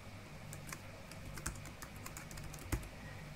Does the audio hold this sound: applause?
no